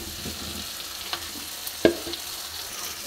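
Masala spices frying in a pan make a steady, close sizzle with a few sharp scrapes and clinks of a stirring utensil, the loudest knock near the middle; no one speaks.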